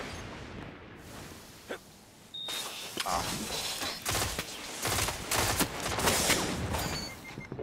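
Gunfire in Destiny's Trials of Osiris on the Bannerfall map, a ragged run of sharp weapon shots and bursts in a competitive match, growing denser and louder after a brief quiet stretch, with game effects mixed around them.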